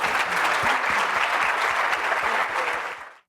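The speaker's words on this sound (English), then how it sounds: "And let's give Jill a round of applause." Audience applause at a Duke University talk, steady full-room clapping that holds for about three seconds before cutting off abruptly.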